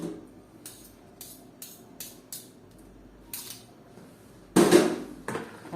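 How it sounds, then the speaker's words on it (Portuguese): Fiadone batter being mixed in a bowl, with sharp clinks and scrapes of a utensil against the bowl in irregular bursts, plus one louder clatter near the end. "Continuo misturando tudo isso aqui."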